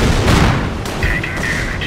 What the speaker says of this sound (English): Fire on our position! Field artillery here!